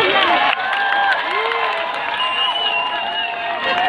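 Audience clapping and cheering at a Himachali comedy show, a dense steady wash of applause with crowd voices mixed in, loud and continuous throughout.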